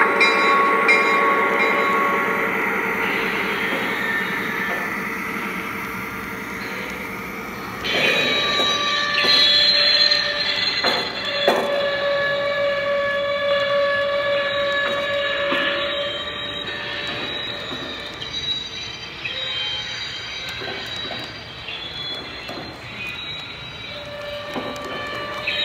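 Lionel Vision Line model train with refrigerator cars rolling along the track, a continuous rumbling run with squealing wheels and metallic rattles, steady and fairly loud for the whole stretch.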